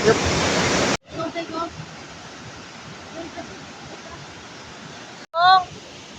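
Steady broadband rush of Bega Falls, a waterfall in Barangay Mabuhay, Prosperidad, Agusan del Sur, Philippines, carrying throughout with a few short voices speaking over it.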